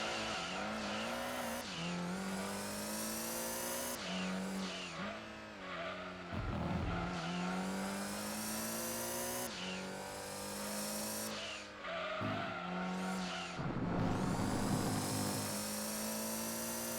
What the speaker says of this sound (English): And this is how cars sound.